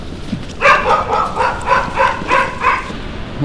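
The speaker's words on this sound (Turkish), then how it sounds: "Köpeklermiş. Evet köpekler çabuk." Several dogs barking in quick succession, about six loud barks in a steady rhythm, close by with a little background noise.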